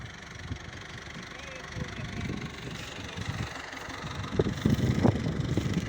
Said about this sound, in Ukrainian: трактор їде, грузить сівалку і будуть сіяти